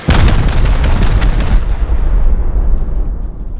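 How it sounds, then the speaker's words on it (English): Rocket explosions hitting a furnace in the video game Rust, a loud run of rapid booming blasts in the first second and a half, each punching in close, then a heavy rumbling roar that slowly fades out, with no voices. "I'll go on this furnace here and we're going to pop 8 rockets in there."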